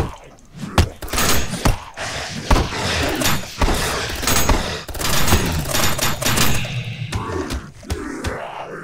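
Gunfire in the shooter game Dead Dozen: loud, close shots and bursts at irregular intervals, mixed with thuds and heavy impacts in a busy, chaotic scene.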